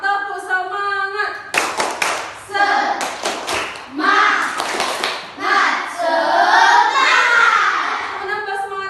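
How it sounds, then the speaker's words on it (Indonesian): Classroom of children performing a rhythmic spirit clap, loud patterned bursts of group clapping alternating with chanted voices, then a longer stretch of children's voices. "Semangat, tepuk semangat, tepuk semangat."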